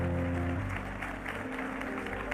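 A church congregation at a healing service claps together in thanks, a dense, steady wash of applause lasting a couple of seconds, with a brief tonal voice or music at the start.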